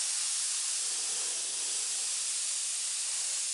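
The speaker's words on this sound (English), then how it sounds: "We'll mist it." House color paint misted onto a surface for a tribal two-tone finish, a steady close hiss that runs unbroken from start to end.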